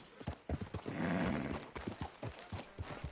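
Horse hooves clip-clop in a steady rhythm in Red Dead Redemption 2, with a snorting whinny in the middle, all close and fairly quiet and with no talking.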